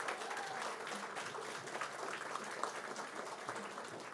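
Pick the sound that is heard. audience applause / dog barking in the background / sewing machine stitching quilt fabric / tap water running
audience applause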